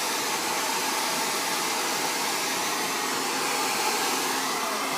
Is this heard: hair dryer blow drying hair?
yes